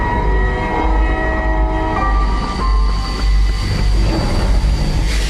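A train arriving from Pakistan at Attari station rumbles loudly and steadily, its rolling wagons and low engine drone continuous throughout, with a sustained horn-like tone running high over the rumble.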